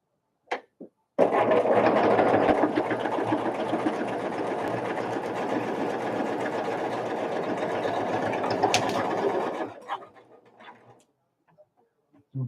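A sewing machine stitches a quilt block in one steady, close run of rapid whirring lasting about eight seconds, bracketed by brief clicks and near-silence.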